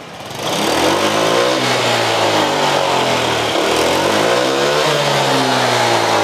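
A Honda Vario 125 scooter with a fault that makes it weak on hills is revved hard under throttle, its loud close engine rising and falling in pitch with a rough, sluggish roar that holds steady throughout.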